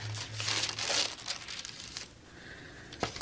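Tissue paper crinkles and crumples as it is handled during stencil printing, loud close rustling bursts for the first two seconds, then softer handling noise and a final sharp crinkle.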